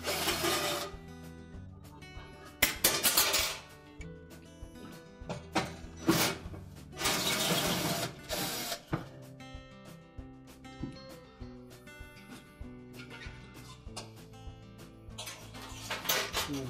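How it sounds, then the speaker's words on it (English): Mounting screws come out of the brackets in the ceiling of a Frigidaire oven, with scattered metallic scraping, rasps and small clanks at close range, broken up by quieter pauses. "Next we'll remove those screws in the ceiling that hold those brackets in place."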